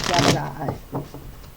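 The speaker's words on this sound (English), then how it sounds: "Now we're going to shuffle up the kitty cat playing cards and spread them out" A quick riffle of kitty cat playing cards being shuffled close by, a brief crisp burst followed by soft card slides, with a voice nearby.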